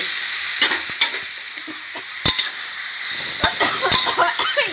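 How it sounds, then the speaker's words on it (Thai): Half a kilo of giant catfish tipped into a wok of curry paste, sizzling and frying with scattered stirring clatters and sharp scrapes against a steady hiss. "ลาบึกค่ะครึ่งกิโลใส่ลงไปเลย"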